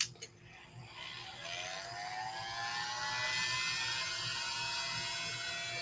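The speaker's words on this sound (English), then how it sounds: "let me hit this again with the dryer" A hair dryer blows steadily on glued paper for a junk journal, its whirring hum rising slightly in pitch after a brief start-up click, with no one talking.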